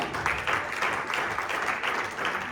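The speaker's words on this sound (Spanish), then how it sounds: "Denle un aplauso al Señor" A congregation applauds at a Bible-reading church service, a steady rippling clapping that fills the whole stretch at moderate loudness with no clear voices.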